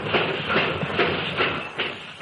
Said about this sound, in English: That's about the way the first railroad locomotive must have sounded when it made its first run back around 1830.